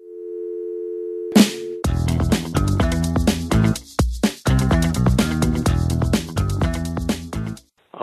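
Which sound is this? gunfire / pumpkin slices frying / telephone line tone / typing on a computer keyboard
telephone line tone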